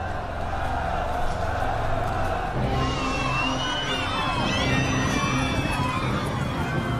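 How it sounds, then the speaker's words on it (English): A crowd in a Roman city cheers as a barbarian general falls, a dense continuous roar of many voices that swells partway through with higher shouts layered over a rumbling bed. "The great barbarian general is felled as those he sought to protect cheer on."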